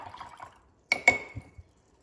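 A paintbrush loaded with orange paint swished and tapped in a water jar: soft liquid sloshing, then two sharp clinking taps against the glass and a few small splashes before quiet.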